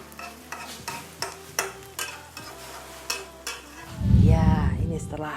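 An egg frying in oil in a pan after being flipped: a few light taps and scrapes, then a loud, close sizzle that swells up near the end.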